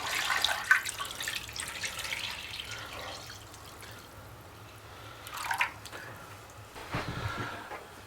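Water runs and gurgles into a pan over chicken in uneven bursts, a few louder splashes punctuating a quieter trickle, without speech.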